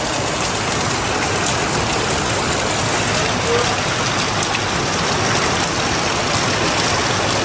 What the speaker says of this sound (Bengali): আল্লাহ, সেই জোরে বৃষ্টি আসছে